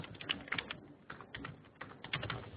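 Keys tapped on a computer keyboard while an email address is entered, a quick uneven patter of clicks in short bursts with brief pauses, close and fairly quiet, no voices.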